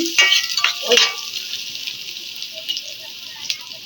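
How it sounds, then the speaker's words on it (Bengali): Onions sizzle loudly in hot oil in a frying pan while being prepared for egg korma, with a few stirring scrapes at the start, and the frying hiss settles into a steady crackle. "পেঁয়াজটাকে ভেজে নিচ্ছি।"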